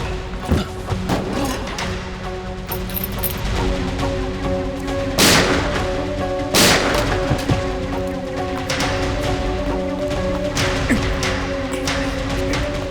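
Two sharp, loud gunshots crack out a second or so apart during a jungle shootout in the CID TV crime drama, set over a sustained bed of tense dramatic music.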